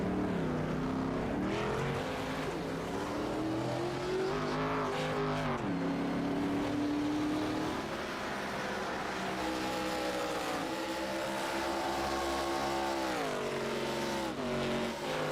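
A race car leaves pit road at Charlotte Motor Speedway on four fresh tires after a fuel stop, its engine loud and close, climbing in pitch through repeated gear changes, with no talking.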